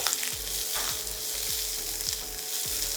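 Green chilies and garlic frying in oil in a pan, a dense continuous sizzle with a few soft stirring strokes, close and steady, with no voices.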